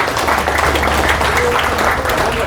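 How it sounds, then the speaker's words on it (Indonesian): An audience claps for a woman police chief at a religious talk, a short burst of crowd applause close by with faint voices mixed in. "Tepuk tangan untuk Ibu Kapolres ini."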